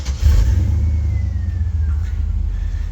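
A Toyota FJ40's engine turns over and catches, then settles into a loud, deep, rumbling idle with slight rises in revs, recorded close by and with no talking.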